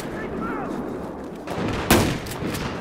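Shotgun blast in Battlefield 4, a single sharp loud report breaking through ongoing game noise and low chatter, followed by a few fainter distant shots.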